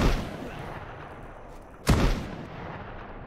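Gunfire in the open-world survival game Outbreak Island, a loud close shotgun-like blast cutting through a steady noisy background hiss, with a single sharp report near the middle.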